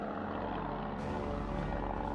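A patrol plane flying over open water in a WWII submarine documentary, a steady loud propeller-engine drone that swells slightly partway through, alone with no talk.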